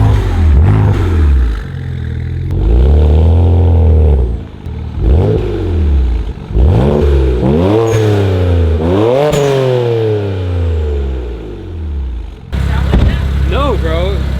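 A BMW 335i with the N54 engine, aluminum charge pipes and an HKS blow-off valve is revved repeatedly nearby, each rev swelling up and dropping back in a series of rising and falling sweeps over a steady low rumble.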